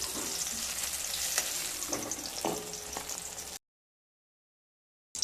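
Eggplant pieces fry in hot oil in a home kitchen, a steady close sizzle with occasional stirring scrapes and crackles, then the sound cuts off abruptly to silence.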